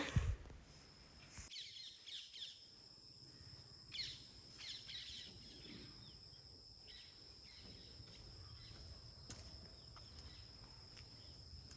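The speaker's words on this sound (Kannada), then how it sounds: "ಎಲ್ಲ ಕಡೆ ಹಕ್ಕಿಗಳ ಚಿಲಿಪಿಲಿ" Faint, scattered bird chirps and insect trills carry through a quiet winter morning outside a home, with a soft steady background hum.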